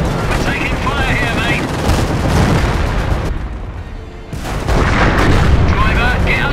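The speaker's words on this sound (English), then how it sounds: "We're taking fire here" Dense video-game battle noise from Company of Heroes: continuous gunfire, booming artillery and explosions, loud and close, with voices shouting over the din.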